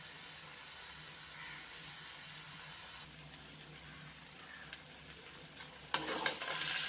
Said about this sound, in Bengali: এখন একটু নাড়াচাড়া করব, আর ফ্লেমটা কমিয়ে দিয়ে